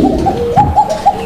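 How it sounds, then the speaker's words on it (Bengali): A pair of pigeons, Black Basiraj Koka, cooing close and loud: a quick series of soft, rounded coos in a rhythmic, throaty pattern with no talk. "দর্শক আমরা এই মুহূর্তে দেখতে পাচ্ছি এখানে চমৎকার আরো এক জোড়া কবুতর"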